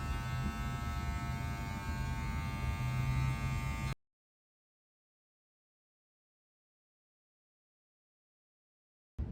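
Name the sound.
electric razor shaving a head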